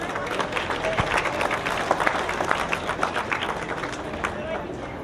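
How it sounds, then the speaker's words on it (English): An audience at the Sioux County Fair rabbit show in Sioux Center applauds, a steady crackle of many hands clapping, moderately distant, with crowd chatter mixed in underneath. "Let's give them a round of applause"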